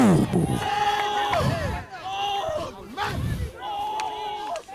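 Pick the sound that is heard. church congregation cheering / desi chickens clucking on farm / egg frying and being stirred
church congregation cheering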